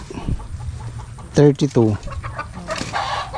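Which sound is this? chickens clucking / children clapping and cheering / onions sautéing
chickens clucking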